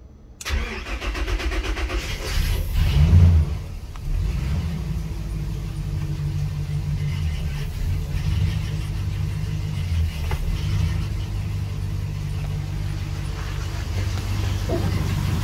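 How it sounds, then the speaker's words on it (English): The port engine of a 34-foot Sea Ray Sundancer boat, sitting in the water for winterizing, cranks and catches with a loud surge, then settles into a steady, deep, rumbling idle for the rest of the span. "Now I'm going to start the port engine, and we're going to winterize the port engine."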